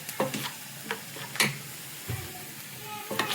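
Onions frying in a pan until brown, a soft steady sizzle with occasional stirring scrapes and taps, fairly quiet and close.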